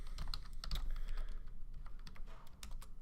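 Fingers type on a computer keyboard in quick irregular bursts of close, crisp key clicks, with a low steady hum underneath.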